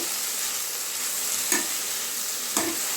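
Boiled millet noodles are tossed and stirred in a pan, with a steady soft sizzle and two brief sharp scrapes of a utensil, close and without talk.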